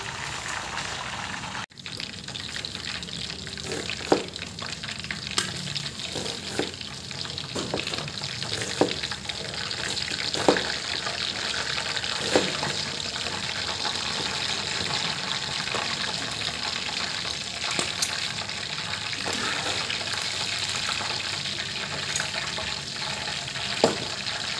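A large loro fish fries in a deep pool of oil, giving a steady, close crackling sizzle with scattered sharp pops throughout, and no one speaking.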